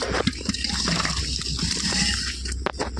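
A heavy pot of water holding live magur catfish and other fish caught from a home pond is poured out, giving a close, continuous splash and slosh of running water with faint voices.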